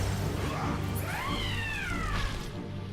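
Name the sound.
angry cat meowing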